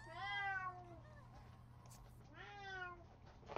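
Two drawn-out, rising-and-falling cat meows from a Sims 3 game cat, fairly close and clear, separated by a short quiet gap over a low steady hum.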